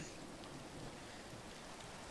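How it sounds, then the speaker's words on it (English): Steady rain falling in the Minecraft video game, Craftoria modpack, a dense continuous hiss of drops with a faint low rumble, fairly quiet and unbroken throughout. "let's sleep and get the rain to stop and the day get to be daytime"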